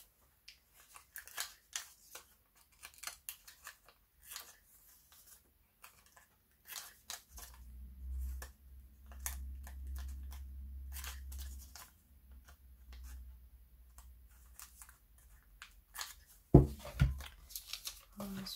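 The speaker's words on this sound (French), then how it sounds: "Donc je découpe et puis on verra." Scissors snip out paper images for a journal cover, a string of faint close cuts and crisp clicks in a quiet room, with a low rumbling pass midway and a sharper thump near the end.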